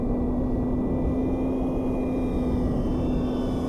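A small radio-controlled E-flite P-51 Mustang model plane's engine drones with a steady high-pitched whine over strong wind rumble, continuous and fairly close.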